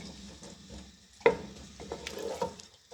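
Onions frying in ghee toward light golden give a low, soft sizzle broken by several spoon scrapes and one sharp clink against the pot, close and quiet, with no one speaking.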